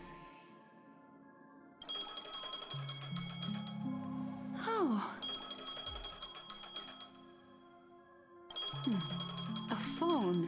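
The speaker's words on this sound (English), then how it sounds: "A phone." A phone rings in Honkai: Star Rail, repeated bright electronic ring bursts separated by short gaps over game music, with a brief voice exclamation.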